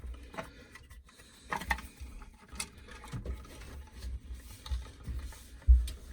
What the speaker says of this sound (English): Now we're screwing it nice and tight into the wall.